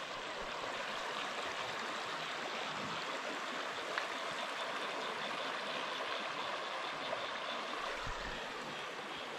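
A river runs beside a bush campsite near Mt Buffalo, a steady, quiet broadband rush of flowing water that holds even and unbroken throughout with no voices.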